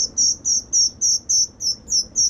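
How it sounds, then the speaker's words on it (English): A white-throated sparrow at a banding station gives a steady series of about ten short, bright, clear chirps, evenly spaced and close, with only faint low background hum between the calls. "So we'll let this beautiful white-throated sparrow go."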